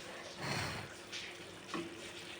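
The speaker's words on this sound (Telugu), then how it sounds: "లైట్గా పాలు యాడ్ చేద్దాం." Milk is poured into a ridge gourd and tomato curry as it cooks, a faint, soft liquid pour heard in a couple of short bursts with no talk.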